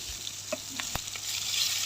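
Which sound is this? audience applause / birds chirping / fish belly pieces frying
fish belly pieces frying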